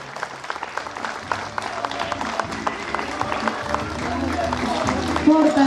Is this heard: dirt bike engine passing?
no